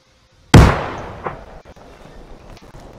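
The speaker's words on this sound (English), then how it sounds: "Another frag out." A frag grenade explodes in the game Antistasi with a single sharp, loud blast that decays into a rumbling tail with a faint echo, with no voices.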